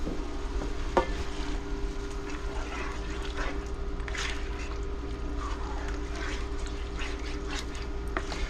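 A spoon stirs chicken and sausage tortellini with pesto in a pot, giving soft scraping and wet shuffling over a steady low simmer hum, with a few brief clinks.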